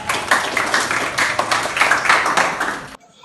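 Classroom applause from a group of students, a dense burst of clapping that fills about three seconds close by and then stops abruptly.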